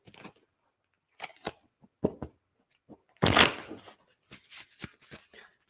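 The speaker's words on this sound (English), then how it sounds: "A little shuffle, shuffle" Tarot cards shuffled by hand: a quiet, intermittent series of short riffling and snapping bursts, one longer rustle in the middle, with no talking.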